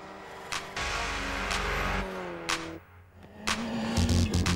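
Toyota Corolla WRC rally car on a hot gravel test in Greece, engine revving and shifting through gears with sharp bursts and a brief lift-off before accelerating again, heard from close by.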